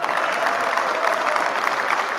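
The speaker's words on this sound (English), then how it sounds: "hand clap for her, okay?" Steady applause from an audience at a gathering, dense hand clapping that holds at a constant, fairly loud level throughout with no pauses.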